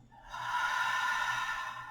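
One long, soft exhale out through the mouth during a gentle yoga breathing exercise, a steady airy breath close to the ear with no talking.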